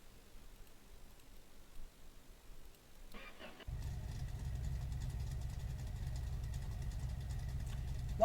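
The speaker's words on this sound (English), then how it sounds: "That's slow to turn over, isn't it? Still starts fine though." Car engine in the video game My Garage cranks slowly with a brief labored whir, then catches and settles into a steady, low idle rumble that continues to the end.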